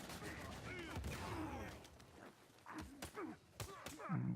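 Gunfire and an explosion in the video game Uncharted 4 Survival mode, set in New Devon: sharp bursts of machine gun shots and a grenade blast in a busy, layered mix, with a voice talking over it.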